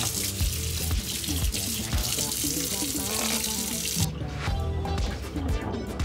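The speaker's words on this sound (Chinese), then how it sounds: "一键按压，倒出污水" Dirty water pours out of the tank of a Dyson wet-dry floor vacuum, a continuous splashing gush that runs steadily for several seconds and then thins out.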